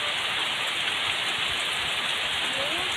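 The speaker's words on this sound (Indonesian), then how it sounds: "Tapi suasananya turun hujan ini indah banget" Rain falls on a hut in the middle of a rice field during a thunderstorm, a loud, close, unbroken roar of drops on the roof and surroundings.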